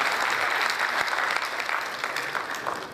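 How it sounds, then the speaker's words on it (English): An audience breaks into steady, dense applause in an indoor hall, a continuous wash of many hands clapping at moderate loudness. "I would like to give a big applause for the current placement department."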